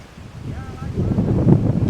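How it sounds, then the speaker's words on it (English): Wind buffets the microphone on a breezy day at a waterfront where kayaks are being launched, a low rumbling roar that builds and grows louder through the second half, with a brief faint tonal sound early on. "By the way, I apologize for the wind if you can hear it."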